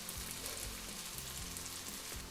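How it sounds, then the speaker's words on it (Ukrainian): Onions sizzle and crackle in a little hot oil in a frying pan, a steady frying hiss with occasional soft stirring scrapes, no talking. "На сковорідку наливаю трішки олії. Чекаю, доки вона нагріється, і буду викладати туди цибулю."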